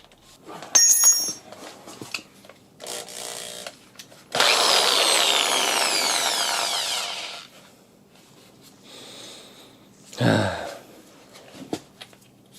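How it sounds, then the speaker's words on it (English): A power drill whirs in a loud burst of about three seconds, trying to drill a stuck old drill bit out of a metal bolt hole, amid clanks and clicks, with talking and metallic rattling around it. "I just cannot drill the old drill bit out."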